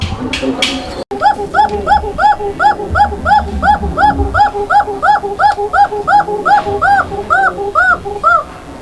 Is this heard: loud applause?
no